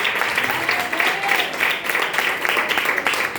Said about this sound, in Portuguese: Exalte o Senhor Jesus com palmas e glórias a Deus